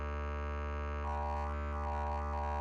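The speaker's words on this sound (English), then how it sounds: "I did use the Dig, which sounds like this on its own." Synthesizer "Dig" preset sounding alone: a steady sustained tone with a low drone, joined after about a second by brighter warbling upper partials that pulse irregularly, fairly quiet throughout.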